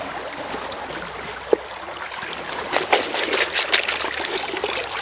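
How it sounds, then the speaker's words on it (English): Water washes through a marine carpet used to catch gold, giving a close trickling and splashing that grows busier and louder in the second half, with a single sharp knock early on. "The best worst bit is washing out this marine carpet."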